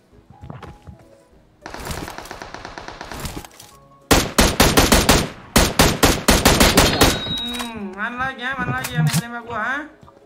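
Video game gunfire in bursts: single shots, then rapid automatic volleys that grow louder and denser, ending in chaotic crackling, with someone talking over it.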